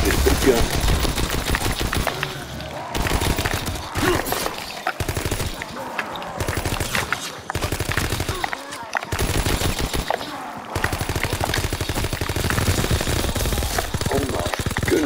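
Rapid automatic machine-gun fire in the Call of Duty WWII Zombies video game, loud and sustained in dense bursts with brief gaps, a voice faintly audible underneath.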